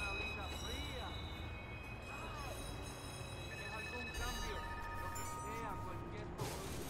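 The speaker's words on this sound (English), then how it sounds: "Southbound train arriving shortly." A train rolls into a station in the video game Watch Dogs, with a steady rumble and squealing wheels under constant ambient noise for several seconds.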